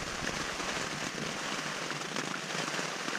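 Steady rainstorm at a crowded hiking shelter on a mountain ridge, with many tents pitched nearby: dense, even patter of drops on surfaces all around, close and constant, with no voices.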